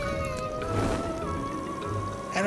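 Cat meowing in the 3D platformer A Hat in Time: a single drawn-out meow with a wavering tone, at moderate volume over low background game sounds.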